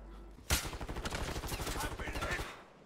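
Rapid burst of gunshots strikes the player in Call of Duty: Modern Warfare 3 Warzone, a loud sharp onset followed by a dense, steady rattle of shots for about two seconds.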